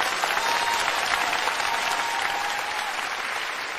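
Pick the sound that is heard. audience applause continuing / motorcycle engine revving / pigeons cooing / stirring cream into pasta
audience applause continuing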